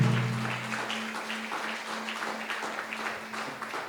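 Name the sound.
congregation applauding in church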